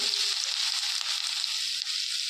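Chopped green chilli, ginger and garlic sizzle steadily in hot oil in a pan while veg Manchurian is being made, a bright, hissing fry that holds close and even throughout.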